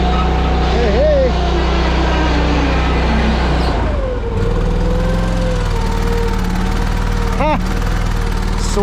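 An engine on an auction-bought machine runs steadily after being started, a constant loud rumble with people talking over it and a few brief whistle-like tones.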